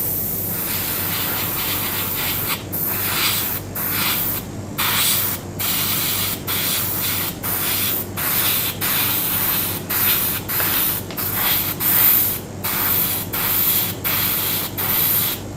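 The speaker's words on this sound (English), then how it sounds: "Is there any particular reason on the direction that you're spraying in?" An airbrush or spray can hisses paint onto a Petit Rise Gilgamesh figure from Bandai Spirits in short, close, loud bursts, repeated about a dozen times with brief pauses between them.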